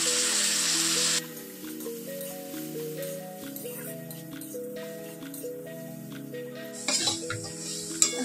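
Lightly fried nuts sizzle in a pan as cornflakes meal is added, a bright frying hiss at the start and again near the end, with steady background music throughout.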